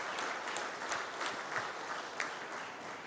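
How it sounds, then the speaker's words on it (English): An audience at an anniversary awards celebration applauds in a steady, moderately distant wash of many hands clapping, with a few sharper claps standing out, lasting about three seconds. "we wish all of you to extend a warm round of applause to Rajesh Pandey, sir"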